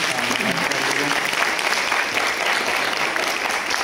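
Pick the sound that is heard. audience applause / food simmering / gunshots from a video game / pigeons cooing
audience applause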